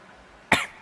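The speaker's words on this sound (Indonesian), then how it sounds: "Batuk" A single sharp, close cough bursts out over a faint background hush.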